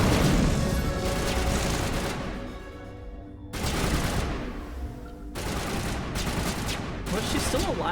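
Bursts of gunfire in a Mass Effect firefight against Geth, rapid automatic shots in dense volleys with short lulls, loud and close, some game voices mixed in.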